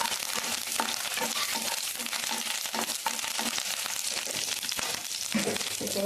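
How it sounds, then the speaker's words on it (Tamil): Curry leaves sizzling and crackling in hot groundnut oil in a pan, a loud, continuous close frying hiss with scattered pops throughout. "இப்போ கடலை எண்ணெய் ஊற்றிக்கலாம். கருவேப்பிலை போட்டுக்கலாம்."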